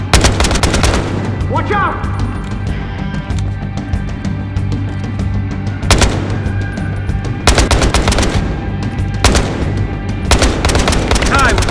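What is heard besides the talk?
gunfire in Battlefield Hardline video game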